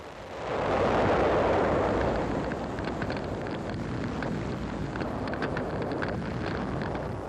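Archival war footage from Iwo Jima as Japanese 77mm gun shells hit tanks: a dense, rumbling roar of blasts and heavy impacts that swells within the first second and stays loud and continuous, with wind-like noise and no talk.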